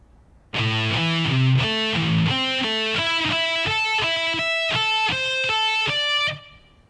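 Distorted electric guitar plays a slow solo lick of distinct single notes in a steady, even rhythm. The notes climb from low bends into sustained higher pitches, close and clear with no talking.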